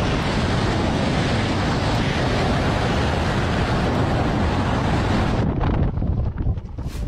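Strong wind roars and buffets steadily, loud and broadband, then drops suddenly near the end, leaving gustier, thinner rushing.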